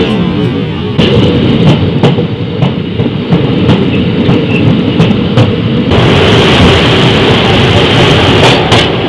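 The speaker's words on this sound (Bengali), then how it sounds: "ছাড়লো গাড়ি বালুরঘাট থেকে আস্তে আস্তে আস্তে আস্তে বেরোচ্ছে।" A passenger train pulls slowly out of Balurghat station in the early morning, its wheels clicking in a steady clickety-clack rhythm over the rails with a loud, close rumble that grows busier partway through.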